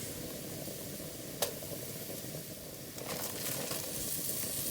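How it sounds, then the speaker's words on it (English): Garlic and onions sizzling in a pan, a soft steady hiss of frying close by with one sharp tap early on and the sizzle swelling slightly toward the end, quiet and without speech. "I'm going to go ahead in this pan and add the rest of the garlic that I cut up and my onions"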